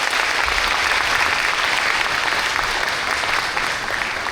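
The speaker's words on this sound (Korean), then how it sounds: "청렴을 주제로 재밌는 강연을 해주신 재판관님께 다시 한번 큰 박수 부탁드립니다." An auditorium audience applauds after a lecture on integrity by a former constitutional court justice, broad sustained clapping that fills the hall evenly and stays loud for several seconds before easing slightly.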